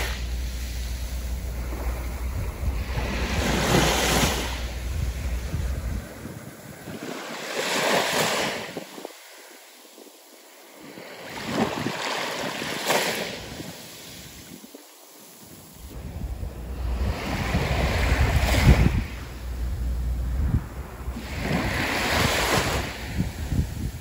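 Ocean waves break and wash onto the shore in Japan, surging and receding in slow rolling swells, with gusty wind buffeting the microphone and no one speaking.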